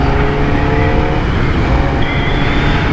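A Kawasaki Ninja ZX-4RR motorcycle engine screams loud and close under aggressive throttle, a continuous high-revving whine with wind roar and no talking.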